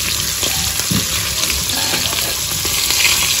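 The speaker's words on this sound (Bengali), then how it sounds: "আস্তে আস্তে ভাজবো" Sarputi fish fry slowly in oil, a loud, dense, steady sizzle and crackle running throughout with occasional soft bumps of a utensil and no talk.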